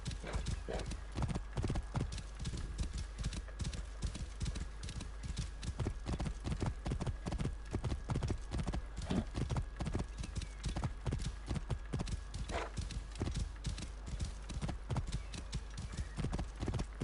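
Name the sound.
horse hooves clip-clopping and neighing in Assassin's Creed Origins video game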